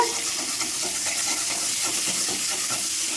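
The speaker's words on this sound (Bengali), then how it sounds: "এখানে ডিম ভাজা হচ্ছে" Eggs fry in a kadai, giving a steady, bright, hissing sizzle that stays close and even throughout, with no talking.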